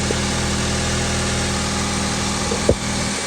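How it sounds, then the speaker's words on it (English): A 2006–2011 Honda Civic engine idles steadily at close range, a low, even hum with faint vibration and a brief knock near the end. "All right, vehicle running."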